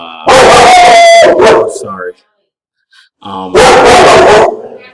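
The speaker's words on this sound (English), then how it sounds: "I apologize for my dog barking." A dog barks and howls loudly at close range in two long bursts separated by a brief pause, while a person speaks briefly in between.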